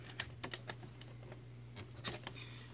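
A keyboard is lifted out of an IBM ThinkPad R31 laptop: a run of sharp plastic clicks and taps at uneven intervals, close and fairly quiet over a steady low hum.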